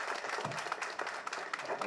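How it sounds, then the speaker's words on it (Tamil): Audience applause at a film audio launch event welcoming director Vetrimaran, a faint, dense wash of clapping throughout, distant and steady. "நல்ல பலத்த கரகோஷத்தோடு வருக வருக என்று"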